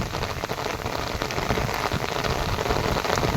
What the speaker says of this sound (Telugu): వర్షం ఎక్కువైంది, బాగా చొక్కా కొడుతుంది.